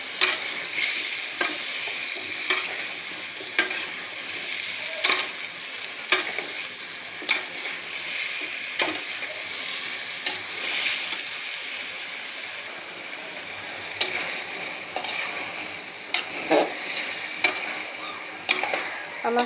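Vegetables sautéing in a spiced masala for a prawn curry, with a continuous close sizzle broken by repeated sharp scraping stirs at an uneven rhythm, and no voices.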